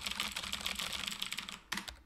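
Keyboard typing in the Emily Is Away video game, a rapid continuous patter of key clicks with a brief pause before a final short burst, close and alone.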